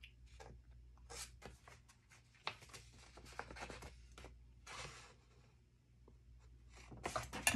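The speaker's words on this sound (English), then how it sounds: "I'm just going to cut it this way because I can see my" Scissors cutting paper along a fold line for a composition notebook journal, close and quiet, with uneven rasping snips and scratchy paper rustles in irregular bursts and no voices.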